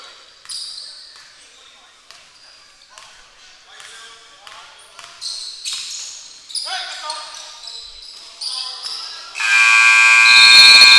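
A loud, sustained halftime buzzer blares at the end of a high school conference finals basketball game, following several seconds of squeaking sneakers, dribbling and crowd noise in the gym.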